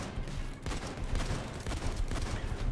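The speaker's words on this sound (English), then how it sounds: "I don't know why I'm shooting the shield" Rapid automatic gunfire in the video game Payday 2, aimed at an enemy's shield, bursts continuously and loudly with dense overlapping shots for nearly three seconds.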